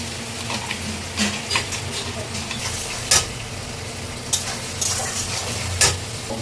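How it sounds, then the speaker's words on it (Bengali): Onions frying in a pan, made while cooking rajma fried rice, give a continuous close sizzle broken by several sharp clinks and scrapes of a spoon against the pan, with no talk over them. "পেঁয়াজ ভালো করে ভেজে নেব"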